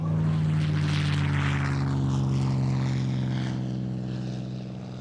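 P-51 Mustang propeller fighter flying overhead with a loud, steady piston-engine drone that holds strong and then slowly fades as it passes away, with no talking.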